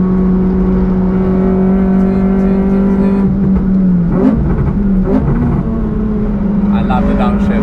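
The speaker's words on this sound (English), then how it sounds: "I love the downshift." Honda Civic FD2 Type R with a K20 engine lapping the Nürburgring, its loud, steady engine drone dipping and rising around a downshift midway, with brief rev changes and a voice talking over it.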